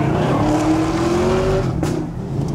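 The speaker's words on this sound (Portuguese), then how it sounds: "Tá tentando fazer um drift com o chevette." A Chevette car drifts with a loud, continuous engine roar and a thin rising tire squeal, heard close up.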